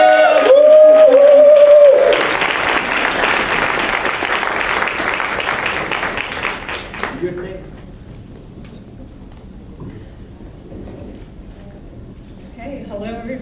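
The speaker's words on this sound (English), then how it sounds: "can we just give a warm round of applause, encouragement to our campaign directors, Margaret Chan and Matt Kang" Guests at a leader launch meeting applaud warmly after a short burst of a voice, a dense clapping that lasts about five seconds before fading into quieter room sound.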